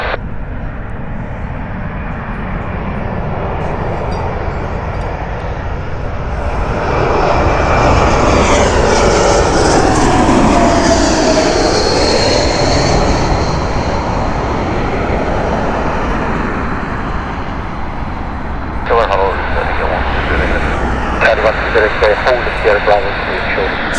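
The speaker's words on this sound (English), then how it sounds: "here is the Airbus A350 of Swiss" A Swiss Airbus A350 jet airliner on approach at Heathrow Airport, a loud, sustained engine roar that swells as it passes overhead and then fades, with wind buffeting near the microphone.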